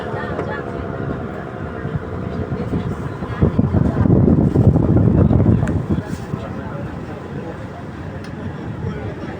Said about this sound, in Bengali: ছোট্ট একটি ট্রলার কিভাবে পানিতে দোল খেয়ে আসতেছে